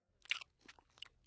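A cartoon character crunches and chews on a toothpick in a few quick, close, crisp bites separated by short pauses, with no talking over it.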